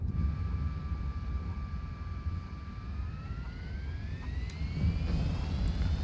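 A fixed-wing aircraft engine idles in the War Thunder video game, a steady droning hum with a whining tone that rises in pitch partway through, heard alone.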